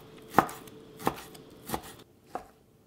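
A knife chops through a half-pound flank steak on a cutting board, cutting it into small pieces: four distinct, evenly spaced thuds, close and fairly quiet.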